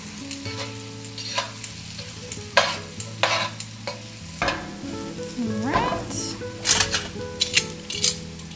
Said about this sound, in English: we're just gonna let these fry in here until they become crispy